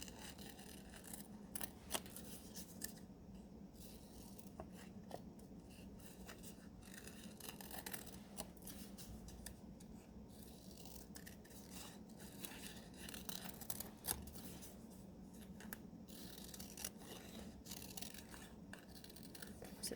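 Scissors snipping through paper or card to cut out a traced shape, a steady run of soft crisp cuts repeating quietly throughout with no talking.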